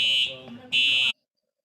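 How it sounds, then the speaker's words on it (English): A fire alarm sounds inside a bar with a loud, piercing electronic tone in two bursts. The first dips briefly and the second ends abruptly into silence, with a voice faintly underneath. "We just had the fire alarm go off at the bar."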